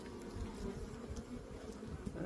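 Honeybees pouring out of a winter hive during a mid-winter check, a steady low buzzing hum that holds close and continuous throughout, with no talking.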